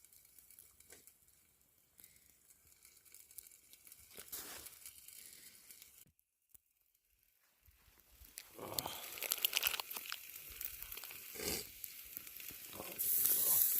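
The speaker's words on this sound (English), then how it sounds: "Just sizzling right away." Chicken legs hit hot metal over an open campfire in the woods, crackling and sizzling in a rising hiss that grows louder and denser after a brief lull, with sharp pops and crackles scattered through it.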